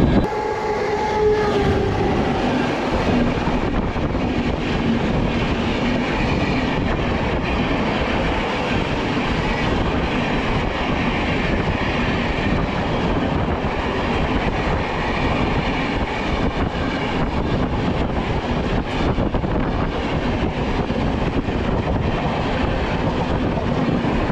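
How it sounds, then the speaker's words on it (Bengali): A passenger train on the Omkareswar to Indore route in India rumbles along the tracks, a loud, constant roar with rattling and clatter throughout, and no voices. "ট্রেনটা এত সুন্দর চলছে"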